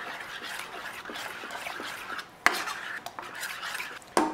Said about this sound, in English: I'm gonna try to get all the bits, all that fond off the bottom, and just stir it up